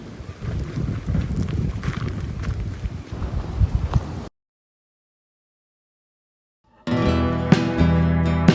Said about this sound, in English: The wind's kind of blowing a little harder than I really would want it to.